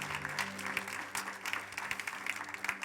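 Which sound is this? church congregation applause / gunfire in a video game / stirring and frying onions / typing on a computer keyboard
church congregation applause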